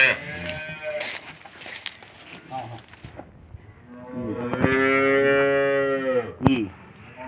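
A beef cow, one of several cattle at a market selling Friesian dairy cows, gives a loud, long moo in the second half, after nearby people talking and other animal calls.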